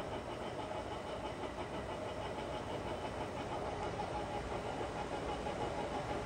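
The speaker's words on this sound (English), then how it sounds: "The spindle speed has been increased to 710 RPM." A Tos horizontal milling machine with its spindle turning at 710 RPM gives a steady, even mechanical hum and drone, moderately distant and unchanging, with no talking.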